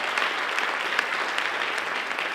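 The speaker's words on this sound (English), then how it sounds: "If y'all could give her a round of applause" At a NOLA for Life symposium in New Orleans, the audience gives a steady round of applause for an event organiser. Dense clapping holds at an even level throughout, with a few sharper claps standing out.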